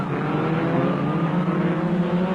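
Formula Ford 2000 race cars at Mondello Park, Ireland, drone steadily with a loud, sustained engine note holding near constant pitch, close and continuous without talk.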